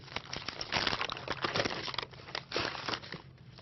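A paper pattern crinkles and rustles as it is unwrapped from a tin can, with steady close crackling and a few louder crumpling bursts throughout.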